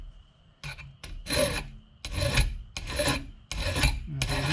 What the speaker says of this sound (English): What I'll do is file it to 4 sides.